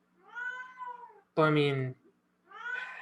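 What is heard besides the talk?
cat meowing, upset at being shut out of a room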